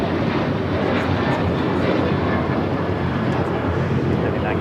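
Steady, loud roar of a large airliner, an A380, moving toward the gate at LAX airport, a broad continuous engine rumble with wind buffeting throughout.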